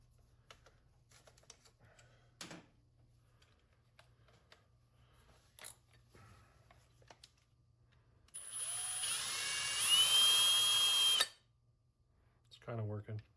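A reamer grinds into a brass cartridge case in a sustained rough whirring burst of about three seconds, preceded by faint clicks and handling noises and followed by a brief rattle, at close range in a quiet setting.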